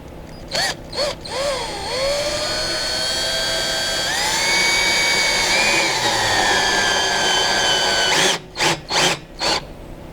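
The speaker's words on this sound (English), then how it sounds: "now you're going to put the screw in because it has the eye hole" A power drill drives a screw into the wooden frame of a free-standing garden hose station, with a sustained whirring motor that rises in pitch midway, framed by short bursts of drilling at the start and end.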